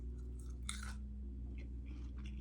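Someone bites into a crispy roasted Brussels sprout, producing one loud crunch followed by several softer, close chewing crunches over a low steady hum, with no talking.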